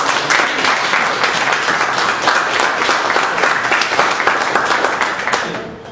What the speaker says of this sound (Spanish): Pido fuertes aplausos para don Ruli Falla.